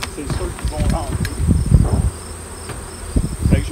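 Honeybees buzz around a beehive, a close, steady insect drone that swells and fades as they fly past, with some faint handling noises and no speech.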